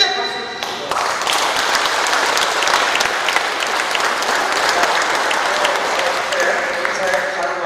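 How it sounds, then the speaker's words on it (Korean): Loud, steady applause of encouragement fills a farming cooperative's member training session in Icheon, continuous clapping from a large audience with a voice briefly over it at the start. "격려 박수로 크게 박수"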